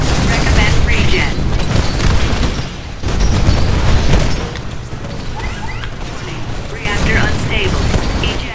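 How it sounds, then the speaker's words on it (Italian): Loud booming blasts from a single-shot cannon in the video game Titanfall, repeated heavy shots and crashes over continuous game noise, with someone talking at times. "Sto cannone che spara un singolo colpo."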